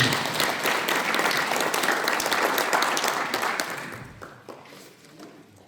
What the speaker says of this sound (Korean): 우리 실천하시라고 큰 박수 한번 쳐주시기 바랍니다